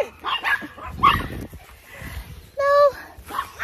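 Several farm dogs just let out, giving short barks, yips and whimpers in close bursts, with a voice in between.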